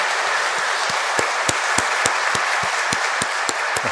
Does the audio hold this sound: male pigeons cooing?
no